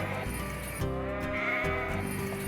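Sheep at the Keystone International Livestock Expo bleat in overlapping calls, several animals close by, over a steady hum of barn noise.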